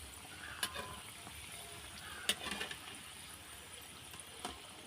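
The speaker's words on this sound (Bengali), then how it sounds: "এটা আমি হালকা জালে ভেজে নেব।" Flour snack frying in hot oil in a wok over a low flame: a quiet, steady hiss and bubble with a few sharp crackles and pops, heard alone.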